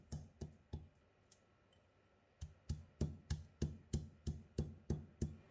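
Rhythmic pounding of coriander seeds and peppercorns: a few sharp knocks, a pause, then a steady run of about a dozen evenly spaced thuds, close and fairly quiet.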